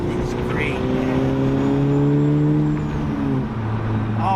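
A car fitted with an AWE exhaust on the highway, its engine droning loud and close with a deep, throaty tone that climbs and eases as it revs steadily.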